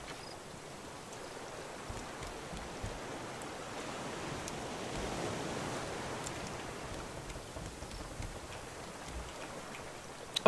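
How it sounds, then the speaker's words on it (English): Steady rain pours down in the survival game Raft, a broad even hiss of falling water holding at a constant level, with no voices over it and a brief louder burst at the very end. "Oh, it's raining."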